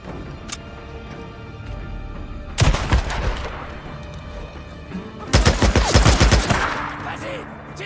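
Gunfire in the video game Days Gone comes in two loud, close bursts of rapid shots separated by a quieter stretch.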